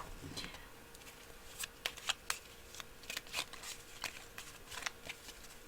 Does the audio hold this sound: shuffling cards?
yes